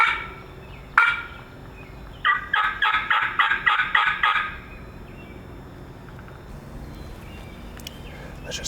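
A wild turkey on public land in Wisconsin gobbles in a rapid rattling burst of about seven pulses, preceded by a single sharp call, followed by quiet outdoor air.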